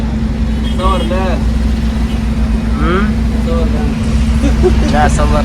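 A city bus travels through Cairo toward Ramses, with a constant loud engine drone and road rumble filling the cabin while voices talk over it.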